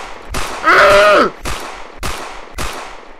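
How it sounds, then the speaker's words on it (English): Video game gunfire hitting the player, with several sharp, loud shots spaced about half a second apart and a brief strained vocal cry among them. "It hurts when you shoot me!"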